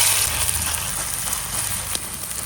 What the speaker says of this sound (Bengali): এখন গরম তেলে ভাজতে হইবে।